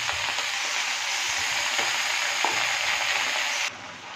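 Malabar spinach stalks and spices frying in hot oil give a steady, close, dense sizzle that runs unbroken for several seconds before dropping off sharply near the end.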